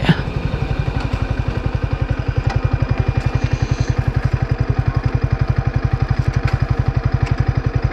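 A 2024 Yamaha R15 v3 motorcycle with a loud exhaust runs steadily close by, its engine beating out a fast, even stream of thumping pulses with no speech over it.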